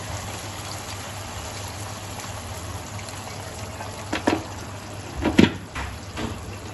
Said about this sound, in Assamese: আৰু লগতে ইয়াত অলপমান পানী দিম।